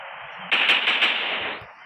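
A submachine gun fires a short rapid burst in the World War II shooter World War Polygon, loud and close over steady background game noise.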